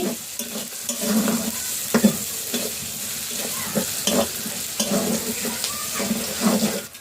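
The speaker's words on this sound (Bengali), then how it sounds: "এইভাবে আমি লাল করে পেঁয়াজটাকে ভেজে নিচ্ছি।" Onions stirred and fried until reddish in a pan for a rustic chicken curry: a loud, continuous close sizzle with repeated spatula scrapes and stirring strokes in an uneven rhythm.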